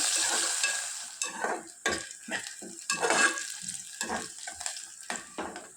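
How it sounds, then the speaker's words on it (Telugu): Onion pieces fry in a pan for tomato rice, a steady sizzle broken by repeated scraping stirs of a spatula against the pan, close and fairly loud with no talking. "ఈ ఆనియన్ ముక్కలు గోల్డెన్ బ్రౌన్ కలర్ వచ్చేంత వరకు వేయించుకోవాలి"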